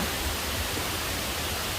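Krok E Dok waterfall, a tall seven-tier falls, gives a steady broadband rush of falling water, loud and even throughout.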